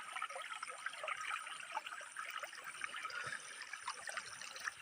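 Water flowing in a natural stream outdoors makes a steady, soft trickling and babbling wash that runs continuously at low volume without a pause.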